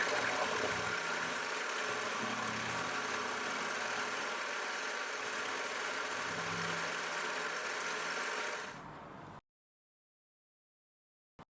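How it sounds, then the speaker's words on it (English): A lathe machines the other end of a part, a tool clamp for a radius table. Its motor gives a steady, close, even running hum for most of the clip, then cuts off abruptly into silence near the end. "I've turned it round and now I'm machining the other end."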